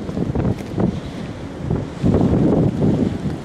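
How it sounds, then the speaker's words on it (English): Strong wind gusts across the open deck of the Carnival Splendor cruise ship, a loud roaring buffet on the microphone that swells and eases in waves. "Very chilly out here and windy this morning."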